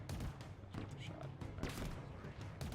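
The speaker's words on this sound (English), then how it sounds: "there's like people shooting me from like 5 different angles" Enemy gunfire in Halo Infinite, dense bursts of shots and thuds from several directions crackling continuously, with a player talking underneath.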